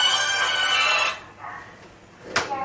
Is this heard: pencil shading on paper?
no